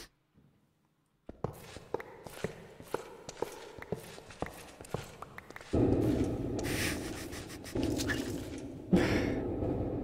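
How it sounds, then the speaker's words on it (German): Blocks being drilled and mined in Minecraft, heard as a run of sharp, regular clicking hits followed by a denser, louder grinding rasp that continues to the end. "Guckt euch mal an, wie Nina da hinten bohrt"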